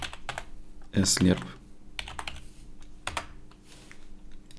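Keys clatter on a computer keyboard in short, quick bursts of clicks, close and moderately quiet, with a voice speaking briefly partway through.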